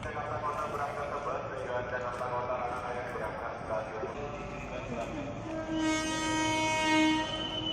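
A train at Manggarai station rumbles and rolls past at close range, its horn sounding in sustained tones near the end over busy station ambience and a voice talking.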